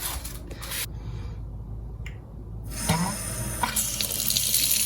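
Water gushes steadily from a newly installed Delta Varos kitchen faucet into the sink, a continuous close splashing hiss that briefly thins before surging again.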